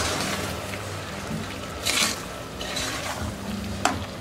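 Wheat and chickpea puzhukku being stirred in a pot, a steady close scraping and swishing with a continuous low hum underneath and a few louder scrapes.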